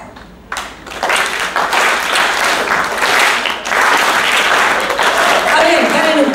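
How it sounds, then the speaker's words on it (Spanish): An audience claps densely at a 2018 murga performance, the claps blurring into a loud, continuous wash with only a loose beat, while a voice speaks or sings over it near the end. "ustedes tienen que hacer palmas"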